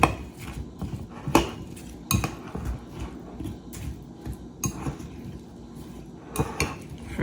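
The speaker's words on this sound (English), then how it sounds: "I'm just gonna stir this up." Chicken piccata being stirred in a pot at home: a spoon scrapes and knocks against the metal in uneven bursts, with sharper clanks now and then, close and moderately loud, with no talking.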